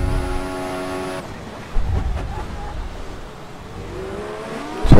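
Mercedes Formula 1 car engine in the F1 2014 racing game at Melbourne, a high steady engine whine that cuts off, followed by a rushing, washing in-game drone and a bump.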